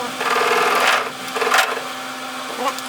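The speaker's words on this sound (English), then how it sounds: "it almost sounds like it's rubbing on the side, doesn't it?" A spinning wire wheel rubbing against the side of its guard, a close, grinding whir that rises and dips in a few uneven surges, with a thin scraping edge over a steady motor hum.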